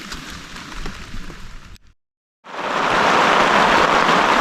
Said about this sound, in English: It is raining heavy out there.